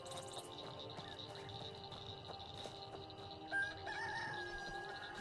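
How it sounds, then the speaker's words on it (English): Roosters crowing at dawn from a modded Skyrim game world, a faint distant crow sounding over a steady quiet ambient bed with soft insect-like chirring. "Oh, the roosters. I have roosters at dawn installed."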